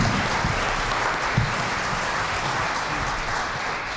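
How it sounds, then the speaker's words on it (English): A sustained round of applause from a sizable audience for a discussion panel, a dense, even clatter of clapping hands throughout. "So maybe we can have one round of applause for the entire panel."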